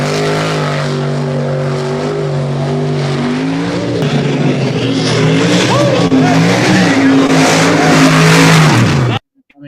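A pro stock truck at a mud hop event makes a loud, sustained engine roar that climbs in pitch as it revs hard through the pass, then cuts off abruptly near the end.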